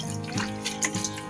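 Water trickles and drips as melon plants are watered with an egg-and-milk fertilizer solution, a few soft splashes close by with no talking.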